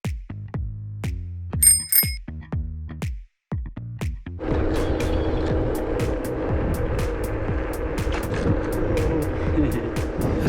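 A car drives through Frankfurt's city center on a summer evening. Bright ringing tones come first, then a continuous rumbling road and engine noise with scattered sharp clicks for the rest.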